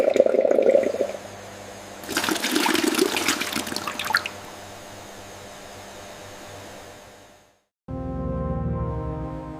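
Coconut water transferred during processing: a rushing, gurgling surge of liquid fades into a steady mechanical hum, cuts to near silence, then a low, even machine drone resumes. No voices.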